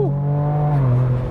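A Ford Ranger Raptor's engine holds a steady close drone, then the pitch drops as it downshifts under braking, a brief continuous sound with no voices.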